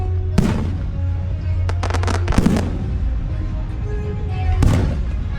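Fireworks explode at a 250-year celebration show: three heavy booms roughly two seconds apart, each followed by crackling, over a steady low rumble of the surrounding crowd and night air.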